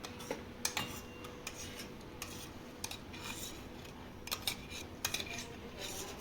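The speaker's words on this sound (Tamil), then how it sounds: "கொஞ்சம் லேசாக கிண்டி விட்டுட்டு டம்ளரில் போட்டுக்கலாம்" Spoon stirring a mango ice cream mixture in a container before it is poured into a tumbler, with faint, irregular light metallic taps and clinks against a quiet background.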